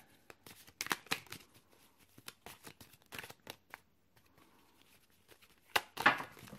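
Tarot cards being shuffled by hand, a quiet run of crisp riffling and flicking bursts in uneven rhythm, close up, with a brief louder flurry near the end and no talking.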